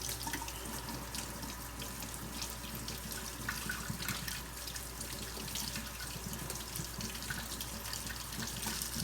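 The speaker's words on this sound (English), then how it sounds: "let me run it under running water real quick" Tap water streams steadily over coins being rinsed, a continuous soft splashing hiss with faint drips, close and unbroken throughout, no voices.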